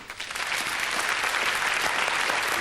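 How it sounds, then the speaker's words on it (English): Steady audience applause for a magician's assistant at a stage magic show, dense and even throughout after a brief quieter start, with no talk over it. "you give a nice round of applause to the medium, Miss Debbie McGee."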